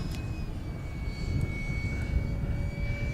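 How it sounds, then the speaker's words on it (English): A small electric 70mm ducted-fan XB-70 Valkyrie model jet whines overhead with a steady high-pitched tone and rushing roar, moderately loud and continuous, no talking. "power from the noisy 70mm fan was adequate"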